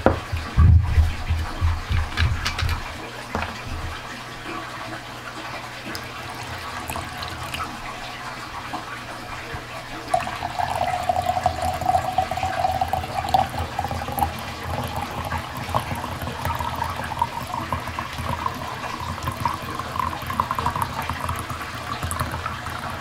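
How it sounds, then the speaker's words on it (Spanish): Mango margarita poured into a glass, a steady liquid stream that gurgles and splashes continuously, louder and brighter in the second half as the glass fills, with no talk. "vamos a agregar nuestra margarita de mango a nuestra copa"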